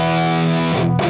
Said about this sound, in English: A high gain distortion pedal made by GuitarSlinger Effects, and it's called 87 MK3